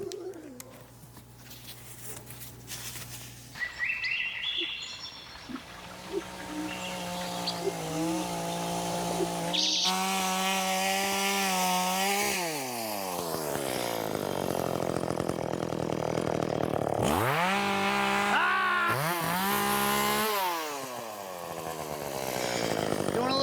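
A chainsaw cutting wood during yard work roars continuously, its engine revving up and dropping back repeatedly as it cuts, loud and close throughout.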